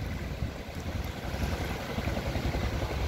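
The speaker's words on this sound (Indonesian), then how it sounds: "Ini ada kapal berangkat." A boat heads out from under the Cengkrong bridge on a river estuary at high tide in Trenggalek, Munjungan, with a steady broad rush of engine and water noise filling the scene at a constant level and no talk.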